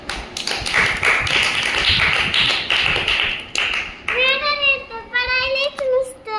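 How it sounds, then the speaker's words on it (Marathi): Several people clapping together at home, a quick run of brisk close hand claps for about four seconds, followed by a voice speaking. "टाळ्या वाजवा सगळ्यांनी."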